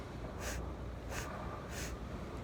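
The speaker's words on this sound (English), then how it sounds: "you'll be inhaling through your nostrils like little sniffs like this" Three short, quick sniffs drawn in through the nostrils as part of a stair-step breathing exercise, evenly spaced and faint against a low background hiss.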